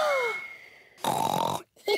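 A cartoon pig voice imitates loud snoring: a drawn-out rasping snort followed by a short grunting breath, close and exaggerated.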